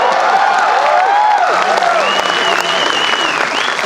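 Auditorium audience at the 54th IFFI applauding actor Vijay Sethupathi, a loud, dense, sustained wash of clapping with cheering voices and whoops rising through it, continuous throughout.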